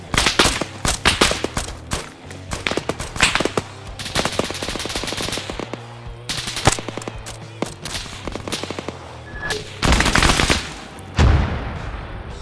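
Rapid automatic gunfire and single shots crack in the military shooter game Arma 3, loud bursts and sustained fusillades with brief pauses, some nearby and some layered in the background.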